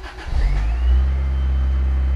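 A Lotus Elan M100 engine cranks and fires up, then settles into a steady, loud idle with a low, even drone, heard alone with no talking.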